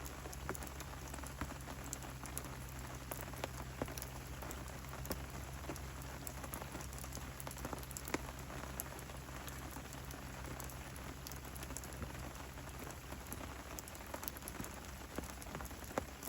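Continuous rain falling on a lake during a carp fishing session, an even, close hiss of countless drops with a faint low hum beneath and no voices.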